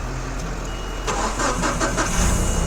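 A car engine cranks and catches after being jump-started from a dead battery, a close, loud starter whir rising into a rough running idle over under three seconds.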